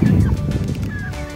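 Close, agitated squawks and clucking from Cornish Cross meat chickens being weighed, rough bursts over low rustling and movement, loud at first then easing slightly.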